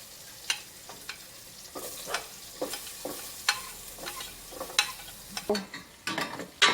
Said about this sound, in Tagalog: gisa na po natin ang onions, garlic, at ginger